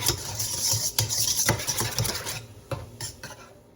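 A cod cake mixture with hot sauce and lemon juice is stirred together in a bowl, giving steady, close scraping and squelching strokes with a few utensil knocks against the sides, slowing near the end.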